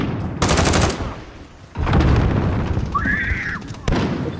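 An RPG blast in a team deathmatch shooter video game: loud, booming bursts of broadband noise, with a long roaring stretch in the middle and a sharp final hit, all mixed with rattling gunfire.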